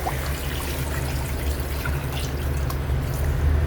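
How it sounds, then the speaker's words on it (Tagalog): Water pours into a pot holding goat meat, salt, onion, ginger and whole peppercorns, a steady close trickle and splash over a low background hum. "Lagyan natin ng tubig."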